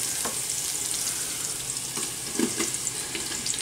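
Wild mushrooms sauté in a pan over onions cooked until translucent, giving a steady soft sizzle with a few brief clinks and stirring knocks near the end.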